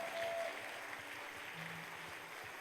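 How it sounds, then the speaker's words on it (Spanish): A church congregation applauding during a worship service, heard as steady, dense clapping from a crowd that continues throughout. "Dele un aplauso al Espíritu Santo"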